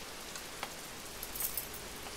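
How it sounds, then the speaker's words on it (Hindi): Light rain falling steadily, a soft continuous hiss with a few faint drips standing out, no voices. "एक दिन हल्की फुल्की बारिश हो रही थी।"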